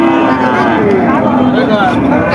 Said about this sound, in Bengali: এই যে সিন্ধি জাতের গরুটা